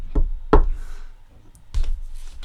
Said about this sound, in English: he's knocking on his head